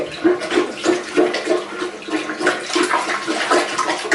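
A plunger worked hard in a clogged toilet makes wet, rhythmic sloshing and sucking splashes, repeating roughly every third of a second, close and fairly loud, with no talking.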